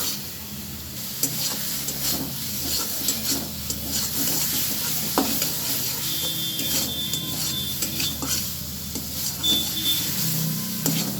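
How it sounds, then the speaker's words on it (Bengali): Tomato paste masala frying in a pan for crab curry, a continuous soft sizzle with intermittent scraping and stirring, close up and steady, with no voices. "আমি এবারে মশলাটা খুব ভালোভাবে কষিয়ে নেব।"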